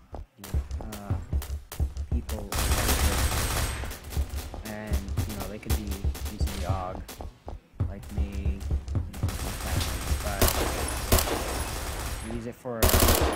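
An AUG A1 assault rifle firing in a video game, loud rapid bursts of automatic shots in several strings with brief pauses, heard alongside talking.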